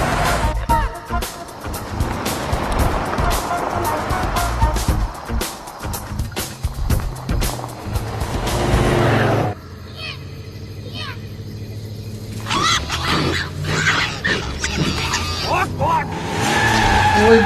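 A car spins around and skids with squealing tires and a revving engine in a Bollywood film chase scene, loud and continuous with dramatic music and effects.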